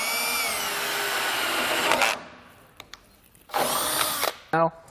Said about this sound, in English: we're going to start drilling the first hole.